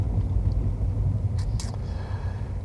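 A car drives east at sunrise with a steady low engine and road rumble throughout, plus a couple of brief faint higher noises near the middle.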